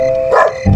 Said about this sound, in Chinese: 这火车上怎么还有狗叫呀？